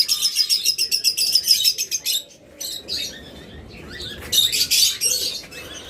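Caged blue Fischer's lovebirds chirp constantly in dense, shrill overlapping bursts, loud and close, with a brief lull midway before the chatter swells again.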